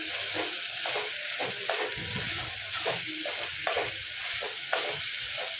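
Moong dal and onion curry frying on a low flame, a soft continuous sizzle broken by regular scraping stirs of a spatula in the pan, close and steady with no talk.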